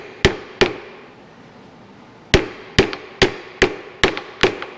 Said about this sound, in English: Needs a little tappy tap tap.